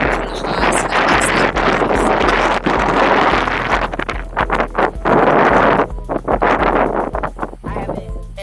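Strong, gusty wind roars and buffets a microphone outside an RV, loud and rough, while someone talks under it.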